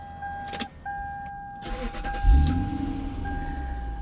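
A 2005 Lexus SC 430 V8 starting on a chilly 27-degree winter morning: chime tones and key clicks, a brief starter crank, then the engine catches with a low rumble and settles into a steady idle.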